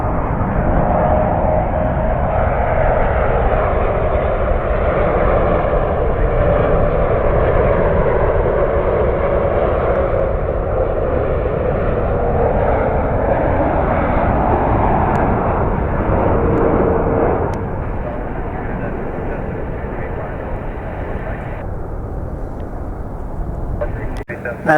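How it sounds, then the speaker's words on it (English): A United Boeing 777 airliner on approach to land at Washington Dulles gives off a loud, sustained jet roar that holds steady for most of the stretch, then drops to a lower, steadier rumble toward the end. "Now we have another United 777 coming in."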